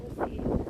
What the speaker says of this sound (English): it's very windy today, though, I will say.